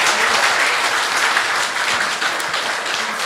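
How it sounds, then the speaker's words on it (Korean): A large audience at a political lecture in Ulsan applauds strongly and steadily, a dense wash of clapping that holds at full volume for the whole stretch with no voices over it. "다시 한번 이해찬 대표님께 큰 박수 부탁드립니다."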